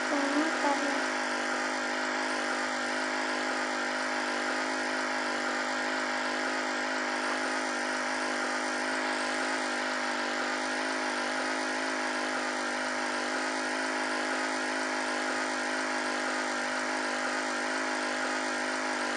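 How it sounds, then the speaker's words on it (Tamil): A car engine in the Roblox driving game Drive Beyond Horizon, apparently without an exhaust fitted, gives a continuous, even droning hum throughout the drive, with no talking. "வண்டி சவுண்டே நல்லா இல்லைல்ல. ஒய்யான்னு கேட்குது. எக்ஸாஸ்ட் பண்ணல."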